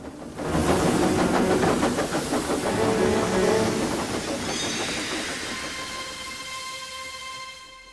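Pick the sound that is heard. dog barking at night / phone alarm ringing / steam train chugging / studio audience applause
steam train chugging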